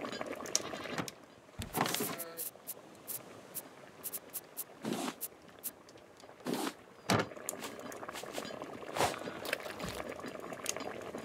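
A cooking pot bubbling in the survival game Raft, soft gurgling boils with intermittent louder splashy bursts, fairly quiet and close.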